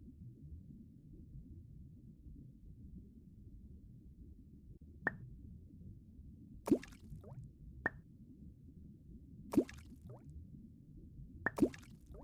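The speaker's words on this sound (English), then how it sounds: "Let's start our pond by adding rocks." Rocks drop into a pond in the Elinor Wonders Why video game, making about five separate watery plops spaced a second or two apart over a quiet, low background hum.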